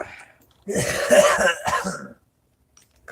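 A short burst of harsh coughing and throat clearing, close and fairly loud, with quiet before and after.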